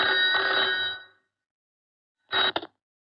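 An old telephone bell rings in two bursts, a long ring then a short one after a pause, loud and clear with no talk, from a 1983 Hindi film scene.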